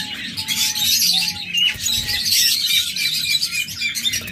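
Crested budgerigars, kept as pet pairs, chirp and twitter continuously and close by, with busy overlapping high tweets and an occasional squawk.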